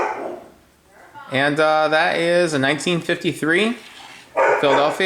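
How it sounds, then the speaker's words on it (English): Dogs bark off in the background of a room while someone talks continuously over them, the barking faint and partly buried beneath his steady speech. "Dogs are barking in the background."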